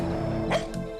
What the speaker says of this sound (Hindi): तो मौत की आहट सुनकर भौंक रहा है।